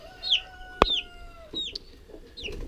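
Young chicks give a few high, sliding cheeps with short gaps between them, close and fairly clear, with a sharp knock partway through.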